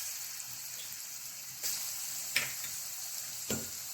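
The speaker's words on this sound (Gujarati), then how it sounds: "હવે તેમાં લસણની પેસ્ટ નાખીશું." Garlic paste sizzles in hot oil in a kadai, a soft steady hiss broken by a few sharper crackles and pops as it fries, with no talking.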